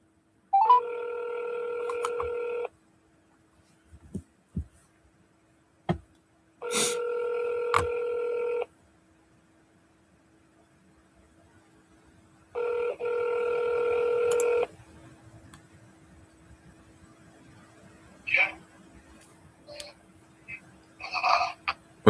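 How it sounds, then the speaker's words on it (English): Telephone keypad dialing tones from a call to a sales lead, with three sustained multi-tone bursts of about two seconds each separated by pauses, then a few short faint beeps, all fairly clear with no talk over them. "I'm going to double dial him in a second."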